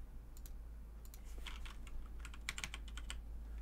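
Typing on a computer keyboard: quiet, irregular bursts of key clicks over a steady low hum, close and without talk.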